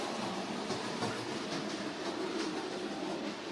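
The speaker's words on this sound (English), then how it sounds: "That's Henry with the flying kipper." A Bachmann Thomas and Friends Henry model locomotive hauling the Flying Kipper fish train runs at top speed along its track, giving a close, steady motor whir and rolling hiss with regular rail-joint clicks roughly twice a second, with no voices.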